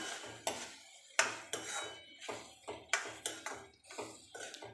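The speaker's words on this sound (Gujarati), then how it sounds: "બધા મસાલાને ટામેટાં સાથે મિક્સ કરી લઈએ" Metal spoon knocking and scraping repeatedly against a pan while spices are mixed into tomatoes, a steady series of clear clinks and clatters close by.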